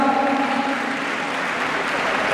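Applause rings out at a kickboxing event for the evening's best fighter, a steady wash of clapping from the crowd with a voice briefly heard over it at the start.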